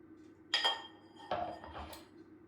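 The plastic lid of a Thermomix is set back onto the bowl in two quick, close clattering knocks, each with a short rattle, against a quiet background.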